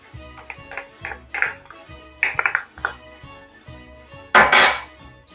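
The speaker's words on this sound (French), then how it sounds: "je mélange bien mon hachis" Minced meat stirred in a pan, a utensil knocking and scraping against the metal in an uneven series of clinks and taps, with one louder clatter near the end.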